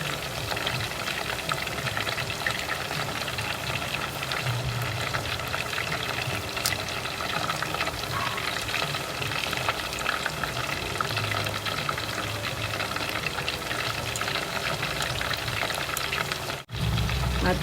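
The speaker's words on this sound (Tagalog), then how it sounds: "Ang sarap pakinggan ng kulo ng mantika." Chicken pieces frying in bubbling hot cooking oil for sweet and sour chicken, giving a steady, dense crackling sizzle that runs loud and close throughout.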